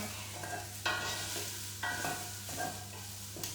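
Onions softening in a pan over medium heat are stirred, a gentle sizzle broken by several distinct spatula scrapes and pushes at irregular intervals, close and fairly quiet over a low steady hum.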